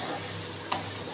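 Carrots and green chillies frying in oil for upma, a continuous close sizzle with one short stirring scrape near the end, no talk.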